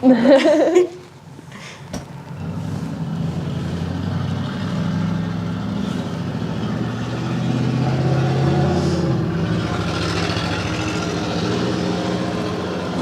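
A motorized treatment table lowers slowly with a steady low mechanical hum that runs for several seconds, preceded by a brief burst of voice and a sharp click.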